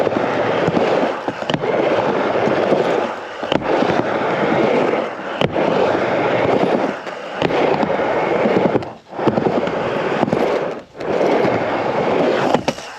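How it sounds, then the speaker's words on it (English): A skateboard on Dragon wheels or hard wheels rolls close by, a loud, continuous gritty rumble broken by sharp clacks and short dips as it crosses joints in the ground. "Let me know if you can hear a difference between the hard wheels and the Dragon wheels."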